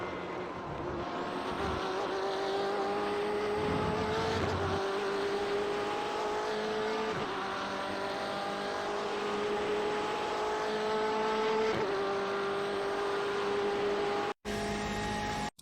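In the iRacing game, a BMW M8 GTE race car runs a lap at Silverstone, its engine howling loud and up close through repeated upshifts and rising revs, with brief lifts and a sudden cut near the end.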